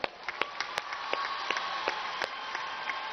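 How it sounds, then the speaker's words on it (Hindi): An audience at a college event in Bhilai claps for dental students: scattered hand claps build into a short, moderately distant round of applause, with no one speaking. "चलो एक बार इनके लिए ताली बजाओ भाई"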